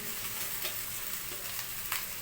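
Cooked rice being stir-fried in a hot pan, a close, steady sizzle with scraping and stirring strokes recurring at intervals, and no talking.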